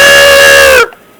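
A voice imitates a chicken in 122-degree desert heat with one loud, close, sustained high-pitched squawk that holds steady and then cuts off abruptly.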